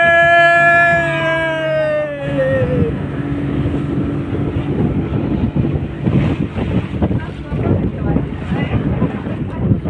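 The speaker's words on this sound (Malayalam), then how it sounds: "നമ്മുടെ ബോട്ട് തന്നെ." A boat motors across a backwater lake in Alappuzha, with a loud engine rumble and wind buffeting the microphone, joined by rushing water; a horn-like tone sounds briefly at the start.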